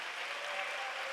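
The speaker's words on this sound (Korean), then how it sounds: "큰 박수 한번 보내주십시오" A church congregation at a young adults' worship service gives a round of applause, a dense, even wash of many hands clapping that holds steady throughout, fairly distant and without voices over it.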